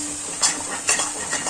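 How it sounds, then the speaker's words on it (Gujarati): Milk being stirred into roasted gram flour in a pan for magaj, with a few quick close scraping strokes and a light wet sizzle in rapid rhythm and no voices. "આ રીતે ફરીથી થોડું દૂધ ઉમેરી અને મિક્સ કરવાનું"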